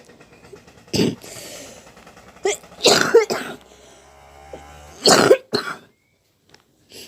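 Several harsh, close coughs from a female teacher during a maths lesson come in separate bursts, with quiet gaps between them and a brief low murmur in the middle.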